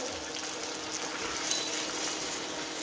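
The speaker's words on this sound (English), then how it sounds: "A little slurp of water." Water gushes and hisses into a pan of simmering seitan sausages in a steady, close, moderately loud pour lasting a few seconds, with no talking.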